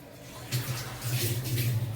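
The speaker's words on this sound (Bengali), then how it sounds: "আমি আরেকটু জল দিয়ে দিই" Water is poured into a cooking pot of rohu fish kofta curry, a soft continuous splashing hiss with a low bubbling hum, close and moderately loud.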